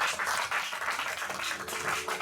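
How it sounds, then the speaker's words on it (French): A church congregation applauds together, a dense, steady wash of clapping that fills the room for a couple of seconds. "Acclame le Seigneur puissamment."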